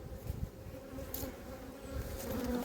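Honey bees swarm close around a beekeeper's face at an apiary, their steady, dense buzzing filling the air with a few louder passes as individual bees zip near.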